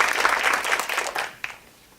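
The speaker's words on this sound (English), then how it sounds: "So you join me in just giving a round of applause." An audience at an environmental justice panel event claps for the panel, a short burst of applause that thins out quickly, with a few last isolated claps before it dies away.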